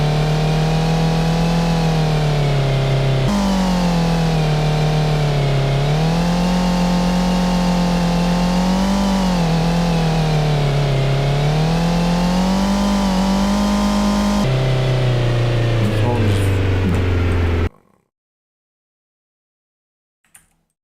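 Synthesized car engine in a homemade Godot video game, a loud steady harmonic drone that rises and falls in pitch as it revs, shifting abruptly a couple of times before cutting off into silence.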